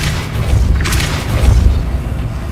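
The Depulso spell in Hogwarts Legacy fires with a loud deep boom and a swooshing burst, then a second heavy rumbling impact, close and prominent with no talk over it.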